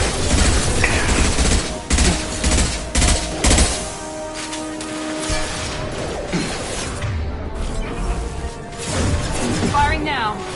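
Rapid bursts of gunfire ring out in Mass Effect 2, with heavy volleys and sharp impacts early on, then a quieter stretch before more shots and crashes follow. Voices can be heard over the combat.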